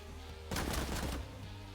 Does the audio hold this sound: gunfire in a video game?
yes